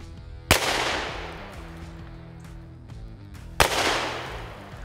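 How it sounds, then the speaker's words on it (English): Two sharp, loud gunshots from a Ruger Super GP100 competition revolver chambered in 9mm with a 6-inch barrel, fired about three seconds apart at a range, each with a ringing decay. "Let's shoot this for a group."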